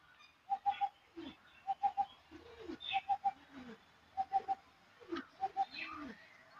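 Pigeons in a rooftop cage at dusk coo in repeated rhythmic bursts of three or four soft notes, close and clear against a quiet background.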